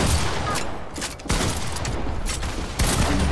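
Rapid gunfire from the Fortnite video game crackles in dense, loud bursts, a sustained fusillade with sharp volleys near 1.3 and 2.8 seconds.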